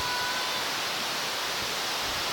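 Rushing water from Tinoor waterfall makes a dense, continuous roar, loud and steady with no other sounds above it.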